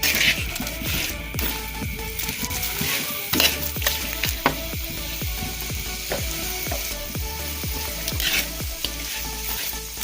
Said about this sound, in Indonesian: Kita masukkan aja udangnya, kepala udangnya, terus kita aduk-aduk